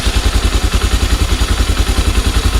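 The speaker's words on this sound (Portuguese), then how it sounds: "Essa é a marcha lenta do motor, quando ele está sem acelerar, mas está ligado." A Honda XRE 300 motorcycle engine idles steadily up close, its single-cylinder beat a quick, even pulse with a low rumble and light mechanical clatter, no voices present.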